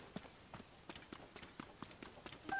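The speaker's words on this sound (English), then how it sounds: "Making these goats run away." Quick, soft hoofbeats patter in an uneven run, a small herd of goats scampering off in The Legend of Zelda: Tears of the Kingdom, faint and light.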